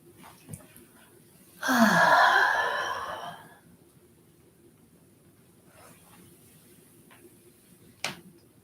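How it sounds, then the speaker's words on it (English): A slow, audible breath drawn in during a quiet qigong stretching exercise, a single broad airy inhale lasting under two seconds, fairly close and alone with no talking. "So take a slow breath in."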